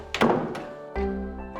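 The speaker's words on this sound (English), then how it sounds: "Close the door." A door is shut with a solid thunk, followed by a second dull knock about a second later, both close and fairly loud against a quiet room.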